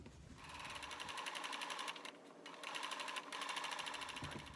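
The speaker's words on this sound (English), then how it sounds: "I'll just sew very close to the edge around the small circle" A sewing machine runs in fast, steady bursts, stitching a small felt circle onto fabric near its edge. The mechanical whir is close and loud, with one brief pause midway.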